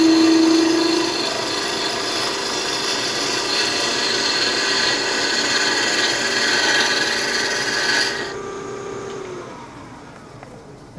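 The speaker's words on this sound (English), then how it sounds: "one of the cuts that you can do with this very small skew, which is a planing cut" A small round bar skew chisel makes a planing cut on a wood spindle turning on a lathe, giving a steady close rasping hiss of shaving wood that runs continuously, then drops away sharply near the end.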